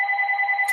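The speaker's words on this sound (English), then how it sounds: "my phone is ringing" A phone rings with a steady electronic trilling tone, loud and close, filling the short moment with no talking over it.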